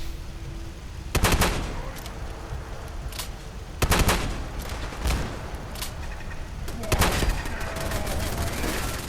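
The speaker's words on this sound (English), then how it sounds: "There are the machine gun turrets. And there go the missiles." Machine gun turrets and missiles firing in the Fallout 4 video game, with several loud bursts of gunfire and blasts spaced a few seconds apart over a steady rumbling game background.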